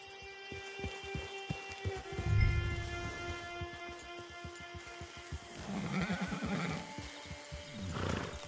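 A horse in the video game Red Dead Redemption 2 gives a clear, drawn-out whinny and snorts over steady clip-clopping hooves, with a low game music drone underneath.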